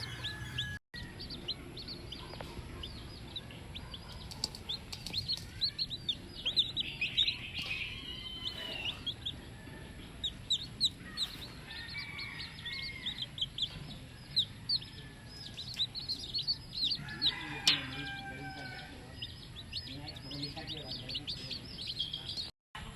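Day-old chicks, hatched that same day on a homestead, peep and chirp in a busy, overlapping chorus at close range, with occasional clucks from nearby fowl.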